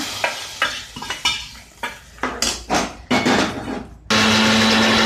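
Tempering poured into drumstick sambar in a pot: a steady sizzle and fry rises under repeated metal clatter of a spoon stirring and scraping against the vessel, ending in a loud continuous sizzle with a faint hum.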